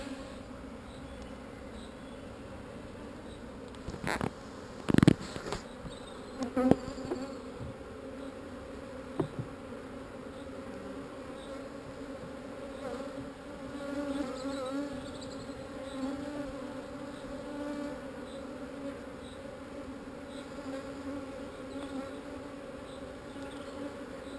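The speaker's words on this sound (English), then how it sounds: "Bee coming out?" A steady insect buzz hangs over a beehive showing no queen cells, bees droning low and continuous with a few louder knocks and bumps near the start, no voices.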